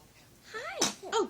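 A baby sneezes twice in quick succession, two short, close bursts about a third of a second apart, preceded by a soft rising infant vocal sound.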